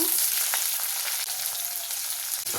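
Chopped onions frying in hot oil with urad dal and cumin seeds, a close, loud, continuous sizzle and crackle throughout, with faint stirring and no voices.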